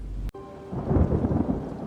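A thunderstorm comes through as a sharp crack of thunder, then a deep rolling rumble over steady rain, close and fairly loud, with no voices.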